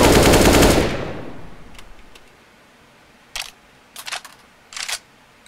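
AK rifle fire in a video game: one loud sustained spray of automatic shots that fades out, followed by three short separate bursts of gunfire.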